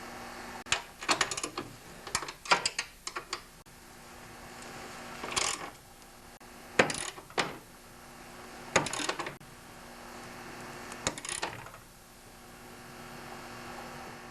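A lock nut being tightened on the handlebar bolt of an MTD snowblower, heard as close, repeated bursts of ratcheting clicks in several separate groups with short pauses between them and no speech.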